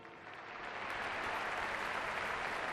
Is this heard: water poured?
no